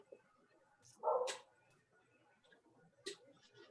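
A dog barks in the background of a home video call, a single loud muffled bark followed by a fainter second yelp, with quiet room noise between.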